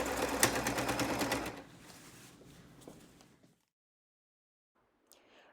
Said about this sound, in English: we're going to stitch along the sides with a 1/2 inch seam